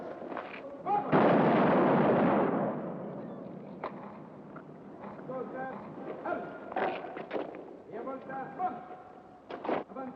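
An artillery battery fires in a dramatized scene: one heavy, sustained blast roars for about two seconds, and sharper distant reports follow amid shouted voices and background commotion.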